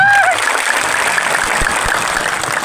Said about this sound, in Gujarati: એકવાર સરપંચો માટે જોરદાર તાળીઓ પાડી લો